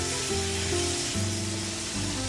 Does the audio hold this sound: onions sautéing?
yes